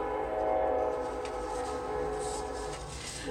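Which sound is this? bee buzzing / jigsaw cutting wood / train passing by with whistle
train passing by with whistle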